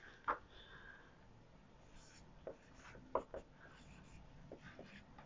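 Marker or chalk writing on a board during a structural engineering lecture: brief, faint squeaks and taps in a quiet room with low background hiss.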